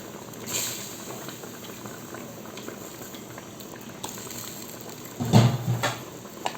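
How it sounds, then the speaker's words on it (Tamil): Fish pieces dropped one by one into a pot of boiling fish curry, a steady low bubbling simmer throughout with a few brief splashing plops and clinks near the end, close by with no talking. "சிம்பிளாக மீனை போடும்போது இப்படி தனித்தனியாக போடணும்."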